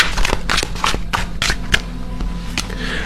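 An oracle card deck, Voyage of the Soul, is shuffled by hand. Quick papery riffles and flutters come in about seven close bursts, loud and near, with no talking.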